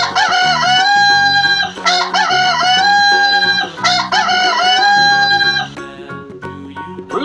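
A rooster crows in repeated loud, close cock-a-doodle-doo calls, layered over a bright musical backing, with no talking.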